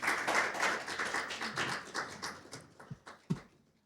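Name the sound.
audience applause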